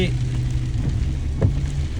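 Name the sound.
heavy rain pouring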